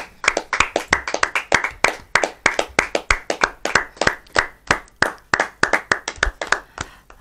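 A church audience claps in quick, steady rhythm, dozens of sharp hand claps in a row with no talk over them.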